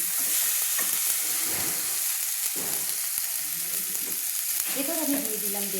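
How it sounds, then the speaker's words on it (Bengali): Whole spices sizzle in hot oil as they are sautéed, a continuous close frying hiss with stirring, and a voice speaks faintly near the end. "সবগুলো মশলাগুলো তেলের মধ্যে আমি কষে নিচ্ছি"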